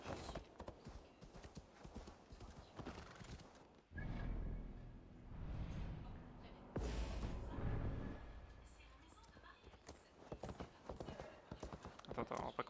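A horse in Assassin's Creed Valhalla trots with rhythmic clip-clopping hooves, faint and in the game mix, under background game sounds and someone talking in French.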